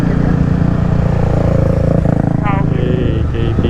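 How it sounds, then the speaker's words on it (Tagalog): Motorcycles, a KTM among them, ride past near a busy public market in Bacoor, their engines droning loud and close under people talking, with a brief higher engine whine near the end. "Grabe naman andar ng mga motor dito."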